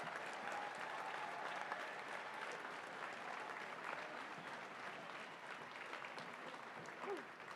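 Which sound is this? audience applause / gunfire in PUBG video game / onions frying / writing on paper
audience applause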